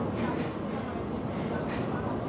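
A Paris metro line 12 train creeps slowly along the track, giving a continuous low rolling rumble with faint rattles and hiss at a fairly quiet, even level.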